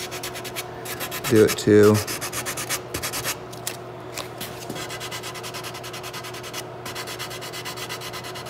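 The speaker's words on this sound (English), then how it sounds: "I could do it with a file, but if I hold the sandpaper tight, I can" Sandpaper held tight scrapes over a wooden rifle forestock in short rasping strokes, close and steady, with one louder burst of rubbing early on and a few spoken words.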